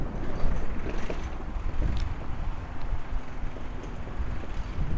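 Outdoors on a golf course, wind buffets the microphone with a loud, continuous low rumble that gusts unevenly throughout, and no voices come through.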